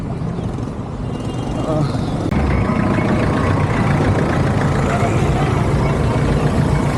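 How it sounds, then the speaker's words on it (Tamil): Road traffic passes on a mountain route between Dum Dum Parai and Kodaikanal, with a continuous loud rumble of vehicle engines that swells slightly and stays dense throughout. "எவ்வளோ டிராஃபிக்காக இருக்கா"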